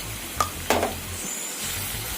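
Four long-slit green chillies frying in a gravy over medium heat, stirred with a couple of sharp spoon scrapes against the pan over a steady low sizzle, with no voices.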